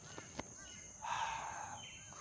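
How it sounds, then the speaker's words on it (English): A crow caws once in the distance, a short hoarse call rising over a faint outdoor background with a steady high hum and a couple of small clicks. "Crows."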